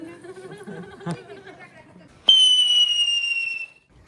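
Faint chatter and a sharp crack during Dhanteras celebrations give way to a loud rising whistle of a firework that shrieks for over a second, then stops.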